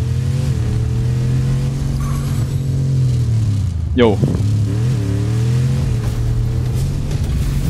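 A car engine revs and whines in the video game Fortnite, a loud droning motor with rising and falling pitch and a sharp swoop midway, while someone talks and exclaims over it.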